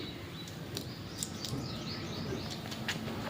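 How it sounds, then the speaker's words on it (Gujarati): Sparrows feeding on scattered grain at a farm take off with a few quick, soft wing-flutter bursts and faint chirps, set against steady outdoor background noise. "અહીંયા ચકલીઓ આવી ગયું છે ચણ ખાવા માટે, ચણ ચડવા. એ ઉડી ગઈ"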